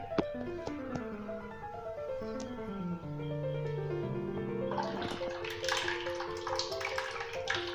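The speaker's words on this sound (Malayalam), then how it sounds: "ഇതിലേക്ക് നമുക്ക് കലക്കി വെച്ചിരിക്കുന്ന പുളി ഒഴിക്കണം." Dissolved tamarind water poured into a simmering curry gives a soft, continuous liquid splash. It sits under steady background music and grows slightly busier toward the end.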